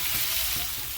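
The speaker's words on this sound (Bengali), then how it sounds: "এবার এর মধ্যে আমি এই কেটে রাখা আমগুলোকেও দিয়ে দেবো, দিয়ে এবার এটাকে এর সঙ্গে একটু কিছুক্ষণের জন্য একটু নেড়ে চেড়ে নেব" Raw mango pieces are stirred into masala frying in oil, giving a loud, continuous sizzle and hiss close by, with faint scraping from the stirring.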